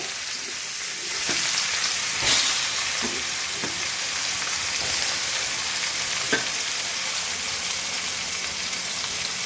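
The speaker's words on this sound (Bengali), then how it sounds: "একই তেলে মেথি আর তেজপাতা পড়ন দিয়ে দিলাম" Fenugreek seeds and bay leaves, then chopped onion, sizzle in hot oil in a home kitchen pan, a steady loud frying hiss with a few clinks and stirring knocks.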